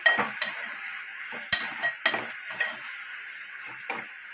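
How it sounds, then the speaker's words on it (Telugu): Tomato pieces frying in a pan after onions, a soft close sizzle broken by several sharp clinks and scrapes of a spatula stirring against the pan, no talking. "టమాటా ముక్కలను ఇందులో యాడ్ చేయాలి. ముక్కలు ఒక 2 minutes వేయించుకున్న తర్వాత"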